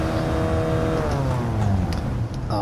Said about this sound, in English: Straight pipe exhaust on a CVT just sounds fantastic